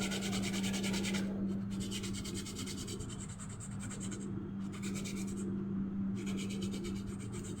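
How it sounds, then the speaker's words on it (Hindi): Pencil lead rubbed back and forth on ordinary sandpaper with a light, rotating hand, giving a close, steady gritty rasp in repeated strokes over a constant low hum, with no talking. "कोई भी सैंड पेपर लो, बस पेंसिल को रगड़ने के लिए जगह होना काफ़ी है"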